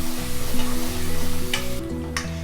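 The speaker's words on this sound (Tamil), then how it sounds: "வெங்காயம் சேர்த்து நம்ம நல்லா வதக்கிக்கலாம்." Chopped onions fry on high flame in a pan for Karaikudi chicken curry, giving a close, continuous sizzle with a few brief stirring scrapes.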